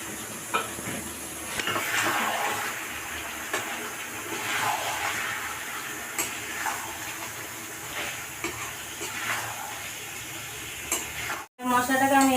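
Chicken frying in a pan with salt, turmeric, Kashmiri chilli powder and chopped tomato, giving a continuous wet sizzle with repeated scraping stirs and occasional clinks, a short silent gap near the end.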